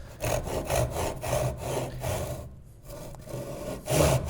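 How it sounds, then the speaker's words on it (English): A fine back saw cuts a kerf across a piece of wood at a workbench, with close, rhythmic rasping strokes back and forth, a brief pause midway, then the strokes resume. "I'm gonna start with this finer back saw and get a kerf all the way across"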